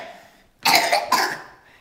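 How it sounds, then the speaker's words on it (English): A few harsh coughs from a child, close by, in two quick bursts separated by a short pause, with a brief quiet moment before them. "She's still coughing again."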